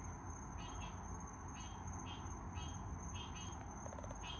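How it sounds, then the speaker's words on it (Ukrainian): Repeated croaking calls, like ducks, outdoors at night in Florida, fairly distant, over a constant high drone of insects. "Чуєте оце квакання?"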